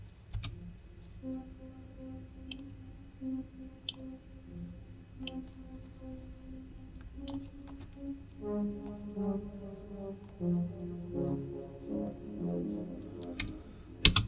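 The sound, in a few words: arpeggiated synth lead melody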